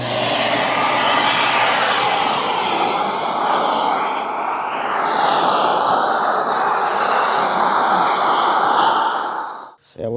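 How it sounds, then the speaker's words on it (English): A car vacuum cleaner runs steadily and loudly during interior detailing of a car's seats, a continuous whooshing drone that stays near and constant for about ten seconds before cutting off abruptly at the end. "we're gonna start with the vacuum"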